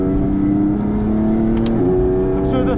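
Modified 2019 BMW M2 Competition on a race track, its engine droning loud and steady through a gear with a brief shift dip midway, heard from inside the cabin without talk.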